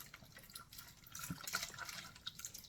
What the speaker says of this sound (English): So what I'm gonna do is add this beef stock in here.